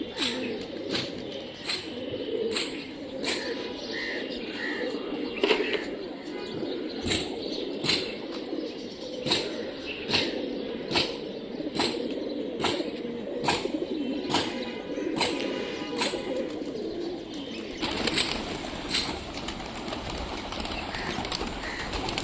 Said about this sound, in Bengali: কবুতরটা সুন্দর আছে, ছাতি বিলং কবুতর